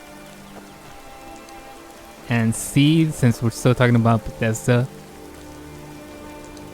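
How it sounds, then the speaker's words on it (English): Soft, steady rain from the video game Skyrim patters under someone speaking for a couple of seconds, then carries on as a faint, even hiss. "Rain. Skyrim weather at its finest."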